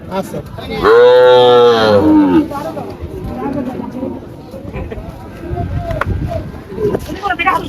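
Cattle at a Faridpur livestock market give one loud, drawn-out moo up close, followed by the general crowd noise and chatter of the market, with people talking throughout.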